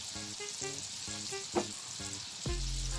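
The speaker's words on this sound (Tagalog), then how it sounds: "Habang piniprito, natatakam na ako." Mountain calamares (squid) frying in oil, a steady close sizzle holding through the clip and swelling louder near the end, with no talk.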